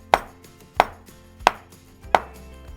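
Knife chops through a potato on a cutting board with four sharp, evenly spaced knocks, each hit clacking loudly against the board and ringing briefly, close and with no talk.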